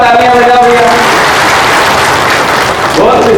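Audience at a Congress party gathering claps loudly and steadily for the journalists present, a dense crowd applause that carries through and fades slightly near the end, with a voice speaking over it.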